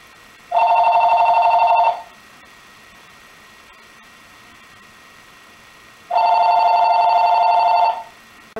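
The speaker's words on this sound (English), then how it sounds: "So, I'm going to call my phone so you can hear what it sounds like." A wireless home phone rings from an incoming call, two loud, clear electronic ring bursts about two seconds each, separated by a few seconds of quiet, heard alone with no talking.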